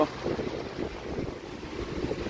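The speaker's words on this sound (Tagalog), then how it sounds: "Lumalakas yung hangin." Gusty wind from Typhoon Uwan roars steadily across San Juan, Metro Manila, a broad rushing noise buffeting the microphone with uneven surges throughout.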